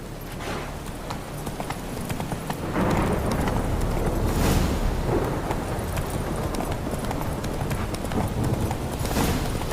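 A horse gallops in The Witcher 3, a loud, close, continuous clatter of hooves with rumbling movement noise that swells partway through.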